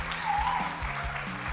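Applause for Eden, a student honored at a Nyeri High School versus MFA Lanet season finale, rolls steadily throughout as a moderate, continuous patter of clapping with faint music tones underneath.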